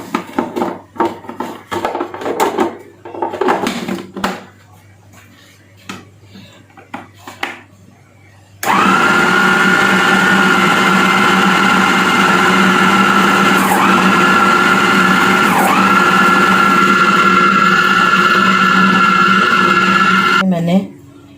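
An electric chopper cuts onions in a home kitchen for beef keema kebabs. Someone talks first, then the motor kicks in with a loud, steady whirring that runs about twelve seconds before it stops abruptly.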